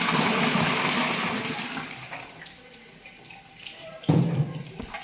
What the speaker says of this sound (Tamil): இப்போ தேவையான தண்ணி சேர்த்துக்கலாம்